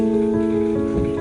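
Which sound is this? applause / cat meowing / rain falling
rain falling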